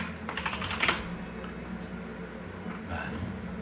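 Quick bursts of typing on a computer keyboard, a cluster of near, clicky keystrokes early on followed by a few scattered taps, with a faint low room hum underneath and no talk.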